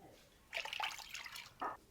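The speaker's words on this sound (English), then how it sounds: "Just gonna add a little splash of hot water yet," Hot water splashed into a pot of curdling milk while making clabber-cultured Gouda cheese, a couple of short close splashes and drips in a quiet room.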